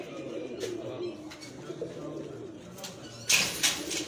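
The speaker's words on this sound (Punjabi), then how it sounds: "ਇਹ ਸਾਰੇ ਕਬੂਤਰਾਂ ਦਾ ਸ਼ੌਕ ਕੀਤਾ" Fancy pigeons kept as a hobby, including Teddy Golden and Lal Pari breeds, cooing in a loft, with steady low throaty coos repeating close by and a louder burst of wing or call noise toward the end.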